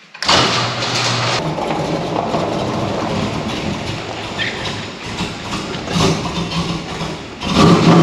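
An LT1 Chevrolet Camaro engine, which has had alternator trouble, starts up. A loud, continuous roar fills the whole stretch and swells again near the end, with no talk over it.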